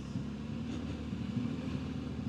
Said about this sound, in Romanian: aici a venit și mașina